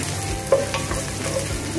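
Onions and chopped ginger sauté in a pan for a Filipino bulalo, giving a steady close sizzle with a few soft stirring scrapes and no talk.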